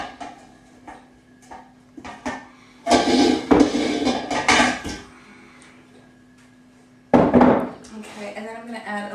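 Chicken carcasses and bones dropped into a metal stock pot while making frugal chicken stock, giving a few loud clattering, thudding bursts with quieter handling knocks between them, up close.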